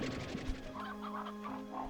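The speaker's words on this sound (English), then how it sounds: "I do want to get rid of all of my normal type hens because I don't think they belong here." Hens cluck in the video game Slime Rancher 2, a run of soft, rhythmic clucks over a steady background hum, with no talk.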